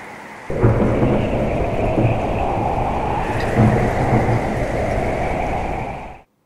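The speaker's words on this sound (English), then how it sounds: "It's raining?" Steady heavy rain hisses throughout, with low rolling thunder rumbling underneath and swelling in places before the storm noise cuts off near the end.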